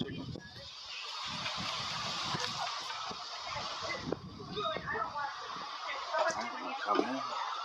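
Farmyard chickens cluck and call near a house while a person talks over them, with irregular bursts of fowl sounds and a distant vehicle honk in the background.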